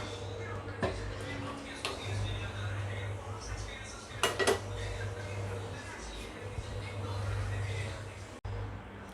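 A cooking pan being set down and handled on a stove while making Afghani egg gravy, giving a few light metallic clinks and knocks over a low kitchen hum, with quiet talk in the background.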